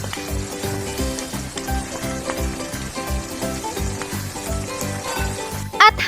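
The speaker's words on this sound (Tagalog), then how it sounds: "At haluin ulit natin ng mabuti" Chayote and chicken stir-fried with oyster sauce in a pan, a steady loud sizzle with rhythmic stirring scrapes throughout and one brief sharp clatter near the end, no voices.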